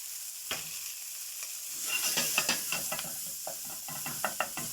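Two garlic cloves fry in a pan with a steady bright sizzle, broken by a run of close scraping stirs and clatters; no one speaks.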